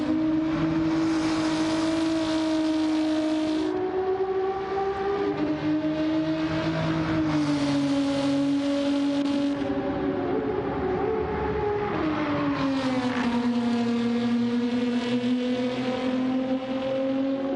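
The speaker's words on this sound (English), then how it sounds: "I like the exhaust sound they went with for the Giulia with some suspension, with some exhaust mods." An Alfa Romeo Giulia race car with exhaust modifications in Gran Turismo 7 drives hard, its engine note climbing through the gears and dropping on each shift, a steady, loud exhaust drone throughout.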